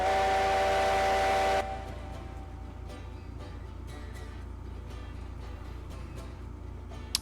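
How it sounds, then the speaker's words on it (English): A loud steam whistle from a Heisler geared steam locomotive in the railroad game Railroads Online, one long sustained blast for about a second and a half, then fading into a quieter hiss and rumble of the running engine. "Oh my god, that whistle's loud. This sounds so good. Yeah, the Heisler has the best whistle."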